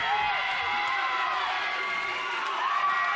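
An arena crowd at a Melee Combat Championship MMA event cheers and whoops in a sustained, dense roar that holds steady throughout.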